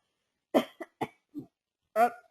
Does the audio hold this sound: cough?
yes